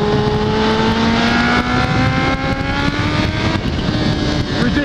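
A Kawasaki H2 supercharged motorcycle with a flashed ECU accelerates hard, its engine note climbing steadily in pitch through the gears, loud and close throughout with no talking.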